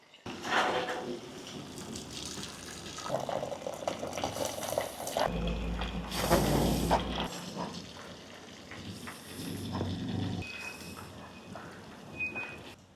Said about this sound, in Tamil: இப்போ இந்த தண்ணியை வடிச்செடுத்துருவோம்